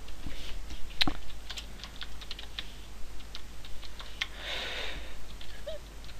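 Registration details being typed on a computer keyboard: a rapid, uneven run of close key clicks with a few louder taps, quiet and unaccompanied.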